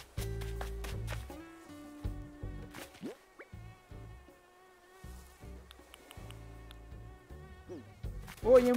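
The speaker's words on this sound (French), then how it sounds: "il y a un moustique qui va me piquer" Mosquito buzzing inside Animal Crossing New Horizons: a thin, high whine wavers through the scene, mixed with soft game tones and blips, moderately quiet with no voices over it.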